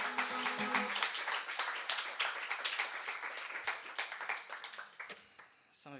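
An indie rock show audience claps in a dense patter of hands, with voices calling out over it, fairly loud at first and thinning toward the end.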